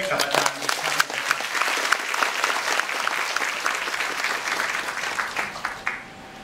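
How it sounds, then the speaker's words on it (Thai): Audience applause at a public health academic conference in Buriram, Thailand, honoring an elderly lecturer: dense, sustained clapping from a full hall lasting several seconds, with scattered voices mixed in before it tapers off at the end. "ราปรบมือให้กับอาจารย์อีกครั้ง"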